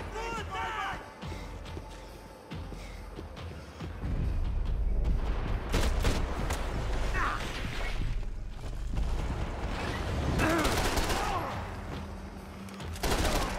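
A shootout in the video game Max Payne 3 brings dense, continuous gunfire and heavy booms that grow louder partway through, with someone talking over the action.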